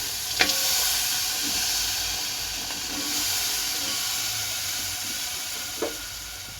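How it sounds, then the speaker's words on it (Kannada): Jaggery melts with a little water in a heated pot, giving a steady, fairly loud steamy hiss and sizzle with a couple of faint clicks. "ಈಗ ನಾನು ಬೆಲ್ಲಕ್ಕೆ ನಾನು ಸ್ವಲ್ಪ ನೀರು ಹಾಕ್ಕೊಂಡಿದ್ದೀನಿ. ಇದು ಸ್ವಲ್ಪ ಕರ್ಗೋಕ್ಕೆ ಬಿಟ್ಬಿಡೋಣ."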